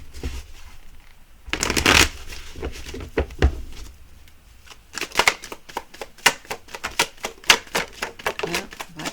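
Tarot cards being shuffled by hand, close and crisp: a riffle burst, a few scattered taps and slaps, then a long run of rapid papery flicks and snaps with no talking.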